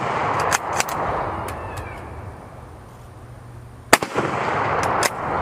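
Rifle firing steel-case ammunition with no muzzle brake at an outdoor range with steel silhouette targets: several sharp, loud, close gunshots with concussive blasts, spaced a second or more apart, with faint outdoor background between.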